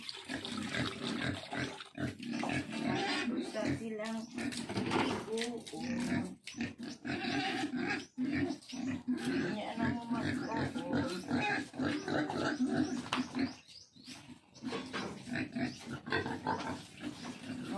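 Pigs in a pen grunt and snort steadily up close, a busy continuous chorus with some squeals and a voice talking now and then.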